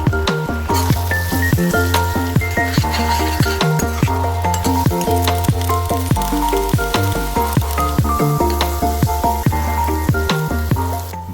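Two eggs frying in a pan for mixed fried rice give a steady crackling sizzle with continuous spitting and popping, heard under loud background music.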